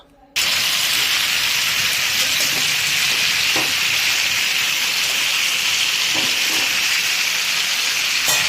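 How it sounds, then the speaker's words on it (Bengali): Eggplant pieces fry in oil over a high gas flame for a hilsa fish curry with nigella seeds, making a loud, steady, close sizzle that starts abruptly and holds without a break. "আমাদের উদ্দেশ্য হচ্ছে জাস্ট একটু ভাজা ভাজা করা"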